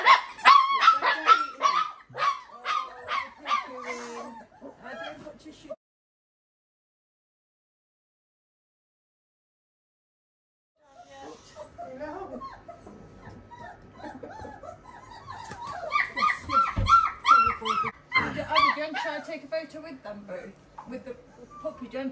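A young puppy barks, yips and whimpers in quick bursts close by, goes fully silent for about five seconds, then resumes with whiny yips and barks, loud and alone.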